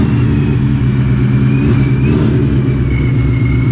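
A supercharged Shelby GT350 with an ESS blower, fresh 105mm pulley and new belt, roars on a dyno, a loud, sustained, close-up engine drone that holds steady throughout.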